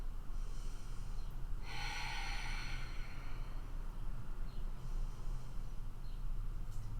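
Deep, slow breathing during a yoga stretch, one long audible inhale and exhale through the nose over a steady low background hum, with a softer second breath later.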